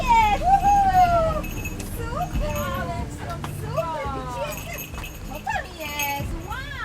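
Rescue dogs at a search-and-rescue training on rubble whimper and yelp in rising, wavering cries with short barks, fairly close and steady throughout over background noise.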